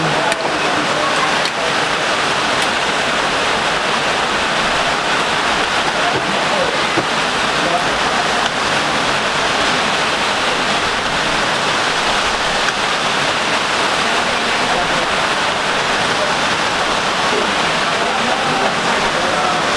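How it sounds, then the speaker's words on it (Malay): Heavy rain falls at a roadside coffee stall in Kampung Kechor, Perlis, as a loud, constant wash of noise throughout while people talk underneath. "Hujan ni."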